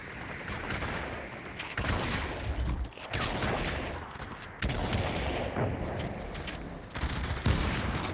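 Rapid gunfire in the VR shooter game Population One, with dense bursts of automatic shots and booms rolling continuously, loud and close, broken by a few brief pauses.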